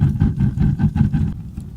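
A portable hot tent wood stove roars while burning hard, a close, loud, pulsing low rumble with a rapid chuffing rhythm like a locomotive, heard alone.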